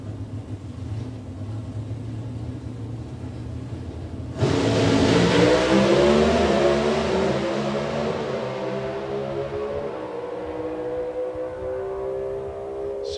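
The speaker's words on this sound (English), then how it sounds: "Pontiac GTO in the qualifier lane, and it's the Camaro in the Autoglip lane." A Pontiac GTO and a Camaro launch off the line at a drag race, a sudden loud roar of engines that rises in pitch then fades down the track after a quieter idle.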